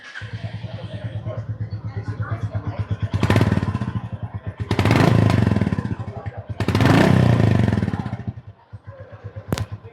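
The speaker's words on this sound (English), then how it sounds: "Let's just fire it up for you and check how it sounds." A Royal Enfield Goan Classic 350 motorcycle starts up and idles with a steady, close single-cylinder thump. It rises into three revs before a short pause and a final blip.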